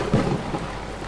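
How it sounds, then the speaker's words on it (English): Heavy rain pours through woodland leaves at night while a deep thunder rumble swells early on, the storm loud and steady for about a second. "Big drops of rain began to fall and splash through the leaves around her."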